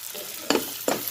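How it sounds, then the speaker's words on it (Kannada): Potatoes frying in a pan with turmeric and salt for aloo beetroot bhaji: a steady close sizzle broken by two short scraping stirs, with no talking. "ಓಕೆ, ಫ್ರೈ ಮಾಡೋಣ. ಸ್ವಲ್ಪ ಫ್ರೈ ಆಗಲಿ."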